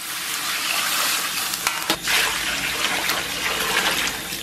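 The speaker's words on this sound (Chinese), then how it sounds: "然后咱们给里边稍微来点水" Water poured into a hot wok of braising pork belly with soy sauce, a loud rushing splash and hiss over steady sizzling, with a few sharp clicks partway through.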